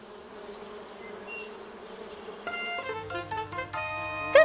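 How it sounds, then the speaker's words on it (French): A soft, steady hum of honeybees buzzing at a hive in a cartoon, then brighter musical tones join in over the drone. "des milliers d'abeilles vivent dedans. Écoute bien et tu les entendras."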